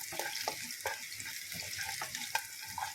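Shallots and mustard seeds sizzle and crackle steadily in a hot pan of oil for a ginger curry, with sharp pops and a stirring scrape now and then, close and continuous with no talking.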